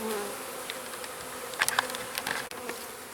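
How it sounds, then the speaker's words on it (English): Many honeybees buzz continuously around beehive boxes and newly installed colonies outdoors, a dense, close, steady drone with small swells as individual bees pass nearby. "with this many bees around and so much happening, it might get ornery"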